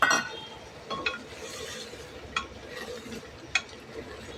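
Cumin, onion, potato and tomato frying in a pan for a Bengali potato dish, with a steady soft sizzle broken by a few sharp utensil clinks and stirring scrapes against the pan.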